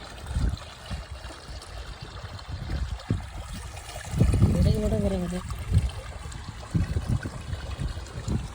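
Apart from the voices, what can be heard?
flowing stream water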